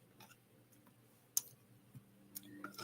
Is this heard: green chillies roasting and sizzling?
no